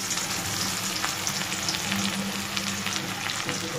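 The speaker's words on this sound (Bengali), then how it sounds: "তো এই ডিম ভাজার তেলেতেই আমি পেঁয়াজটা ভেজে নেব" Sliced onion fries in oil left over from frying eggs, a constant dense sizzle with faint clicks of stirring, close and even, with no voices.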